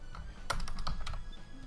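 Computer keyboard keys clacking during a Sonic Generations game session, a handful of irregular close taps over a steady background hum.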